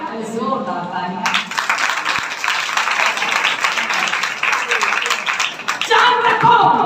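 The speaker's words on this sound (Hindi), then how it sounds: "हालेलुया, जोरदार तालियां।" A congregation at a Friday healing meeting breaks into loud, dense clapping that rises sharply after a short spoken line and holds for several seconds before talk resumes over it.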